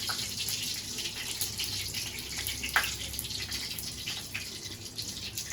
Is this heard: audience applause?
no